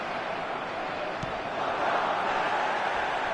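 Stadium crowd noise from the eFootball video game, a broad, constant roar of many voices that swells slightly partway through, with one sharp tap near the middle.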